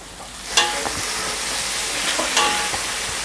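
Eggplant sizzling in a hot pan with garlic, ginger and tomato, a steady loud crackle with occasional scraping stirs, close and continuous.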